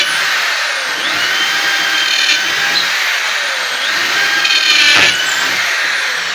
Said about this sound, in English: we can easily drill any hole by using my new drill